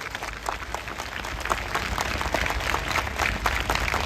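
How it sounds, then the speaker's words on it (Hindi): Congregation in a church applauding together, a dense, even wash of many hands clapping at a moderate distance, sustained throughout without a break. "आइए प्रभु के लिए एक अच्छी ताली"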